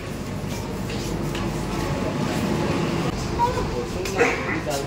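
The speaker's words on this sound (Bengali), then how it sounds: "ট্রেনটি চলতে শুরু করেছে, ছেড়ে দিয়েছে ট্রেন।" A metro train's steady low rumble builds as it pulls away from an underground station on India's underwater line, with faint clatter and a few knocks over continuous mechanical noise.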